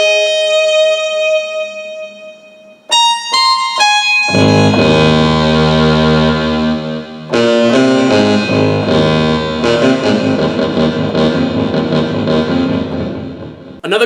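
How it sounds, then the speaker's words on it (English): A Casio WK3800 keyboard plays the famous five-note Close Encounters motif in a bright synth tone, followed by sustained, layered distorted chords with heavy effects and reverb, loud and alone with no talking. "like the sound from Close Encounters"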